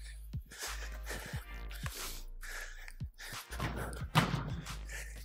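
A soccer ball struck during an individual shooting and dribbling drill, heard as several dull thuds and thumps spread across a few seconds over steady background noise.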